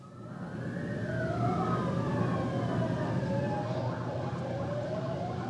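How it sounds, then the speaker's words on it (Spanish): Police sirens wail close by in Venezuela, several overlapping rising and falling tones sounding together at a steady loud level over a low traffic rumble. "¿Cómo gozan los policías tocando sus sirenas?"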